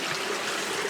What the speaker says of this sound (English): There's water just flowing down here and it's just disappearing straight down.